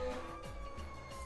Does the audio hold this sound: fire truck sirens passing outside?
yes